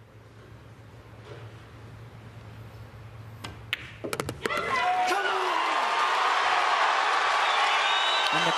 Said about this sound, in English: And the crowd are going wild, getting behind their player.